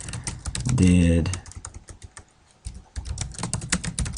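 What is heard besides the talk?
typing a search question on a computer keyboard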